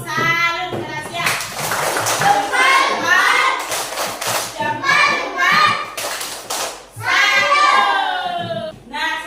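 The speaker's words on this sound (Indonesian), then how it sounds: "Baik, tepuk salut keras ya." Schoolchildren in a classroom give a loud salute clap, sharp bursts of clapping mixed with their chanting and shouting voices, with a teacher's voice directing them.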